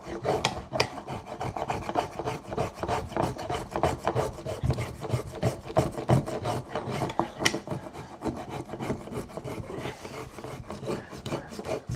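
Hand tool shaving and rasping wood from an axe handle being carved, a rapid, continuous series of close scraping strokes with an uneven rhythm.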